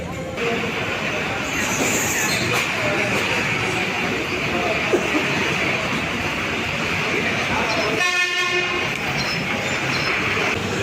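A train rumbles steadily through Thiruvananthapuram Central railway station with constant rail noise, and a brief horn-like tonal blast rises near the end.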